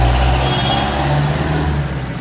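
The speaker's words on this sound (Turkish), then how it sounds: "Ne kamyonmuş be." A large truck rumbles past close by, a loud, steady low engine drone lasting a couple of seconds with no voices over it.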